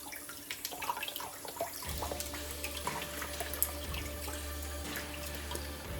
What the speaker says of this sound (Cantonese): 我哋首先洗乾淨，然之後再喺水喉底下洗乾淨佢。